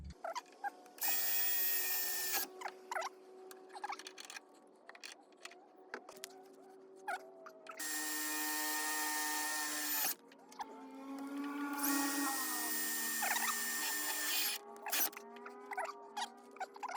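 A power drill fitted with a side handle whirs in several sustained bursts of a few seconds each, close and loud, with quieter pauses and clicks between runs.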